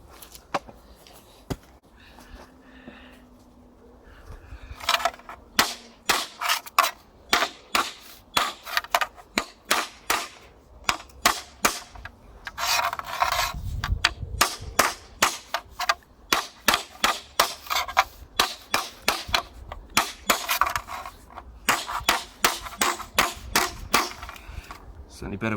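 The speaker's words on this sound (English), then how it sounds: "Certainly better with a bigger hammer." Hammer blows on metal parts during a Citroen 2CV rebuild, a long run of sharp, loud, close strikes in irregular rhythm, quicker bursts in places, with no talk.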